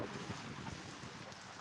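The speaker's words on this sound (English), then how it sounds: "it's windy out here" Gusty outdoor wind buffets the microphone near open water, a steady broadband roar that fills the whole stretch with no pauses.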